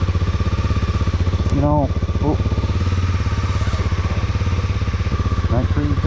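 A Honda CB300R motorcycle engine runs at a steady, close idle with a lawnmower-like putter throughout, while a person talks over it.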